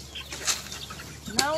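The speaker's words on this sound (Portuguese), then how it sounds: "Ó, o galo." Farmyard chickens and a rooster in Brazil, short clucks and a sharp rising squawk near the end, close and fairly loud over a low background hum.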